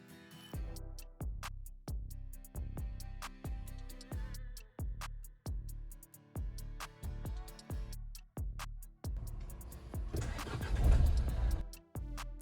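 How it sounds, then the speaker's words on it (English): A 2018-2022 Nissan Qashqai J11 1.5 dCi diesel after a fuel filter replacement gives a long series of steady, evenly spaced thumping pulses, then cranks and starts near the end with a louder rough burst. "Turn the ignition on 5 or 6 times before starting the engine."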